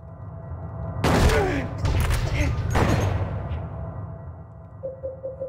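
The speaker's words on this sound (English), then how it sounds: "I'm shooting you with a shotgun here" Shotgun blasts in Silent Hill: three loud, booming shots about a second apart, each with a lingering tail, over a low droning background and a soft voice.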